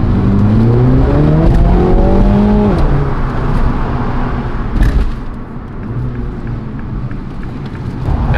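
A Mini GP3 race car engine revs loudly and buzzily nearby, its pitch climbing then dropping, followed by a rougher idle with no talking.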